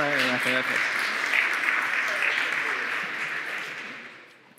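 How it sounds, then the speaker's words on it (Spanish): Applause from the audience at a conference talk on software code, a full burst of clapping that starts after a brief voice, holds steady, then fades out. "No os aguantéis el aplauso."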